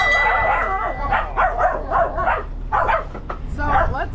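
Several dogs bark repeatedly aboard a boat on a river anchorage, loud, close bow-wows in quick bursts with some yips, running over low background rumble.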